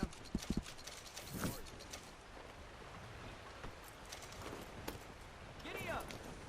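Hooves of a horse clip-clop on a dirt street in a Red Dead Redemption 2 frontier town, with scattered distinct hoof strikes over busy ambient game noise and brief distant voices.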